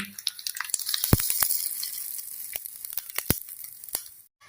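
Oil sizzles and crackles steadily as spices are tempered for bottle gourd peel chutney, with sharp pops and spits scattered throughout, close up, ending in a brief moment of quiet.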